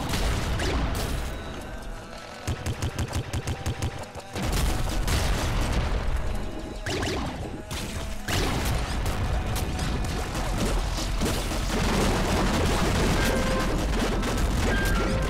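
In the video game Nuclear Throne, a super plasma cannon fires with repeated loud booming blasts and crackling bursts, including a quick stuttering volley, set within a dense wash of game effects.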